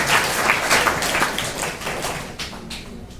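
An audience applauds for Kavya Babariya at a school stage event, with brisk, steady clapping from many hands that holds throughout and tapers slightly toward the end.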